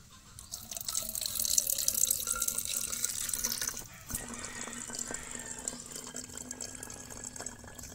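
Diluted hydrogen peroxide solution is poured into a spray bottle, a close trickling splash that fills for about four seconds, then fades to faint drips.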